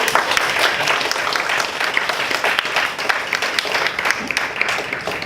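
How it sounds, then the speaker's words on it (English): Applause from an audience at a Toastmasters club session, dense steady clapping close by that continues without a break for the whole stretch. "So another round of applause to"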